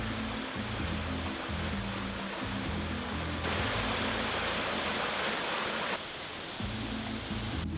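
Mountain torrent rushing beneath a stone vault at an old underground cement works, a steady loud broadband roar of fast water that swells brighter midway and dips briefly near the end.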